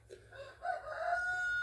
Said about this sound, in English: You can hear Reagan's roosters out there crowing.